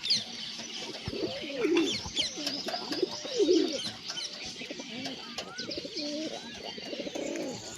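Pigeons coo in soft, repeated throaty calls close by, mixed with a few chirps from other birds and some faint background murmur.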